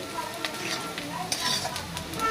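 Onions frying in a pan for a vegetable kofta dish, a moderate sizzle with repeated spatula scrapes and light clinks against the pan; no talking.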